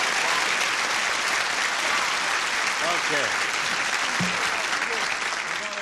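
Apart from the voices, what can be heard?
audience applause welcoming contestants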